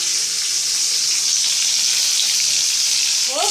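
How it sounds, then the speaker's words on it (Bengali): Rohu fish frying in hot oil makes a steady, dense sizzle that stays loud and continuous, with a few faint utensil clinks near the end. "এদিকে ভাজাও চলছে মাছটা।"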